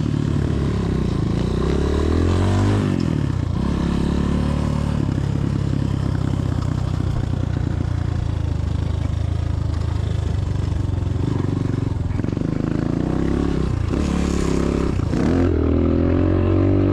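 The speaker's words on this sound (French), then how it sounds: "ce que vous entendez, c'est le défaut de l'ERZ Pro, c'est le garde-bois avant est trop court" Front wheel of a 2022 ERZ Pro off-road bike striking its too-short front mudguard while riding on rough ground, a continuous close rattling clatter mixed with engine-like drive noise for the whole stretch.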